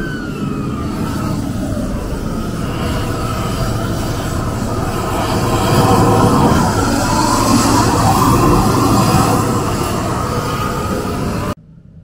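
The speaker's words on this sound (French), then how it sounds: "Il chauffe le goudron." A road machine heating asphalt tar on a bicycle lane gives a loud, steady mechanical roar with a droning hiss that swells midway, then cuts off abruptly near the end.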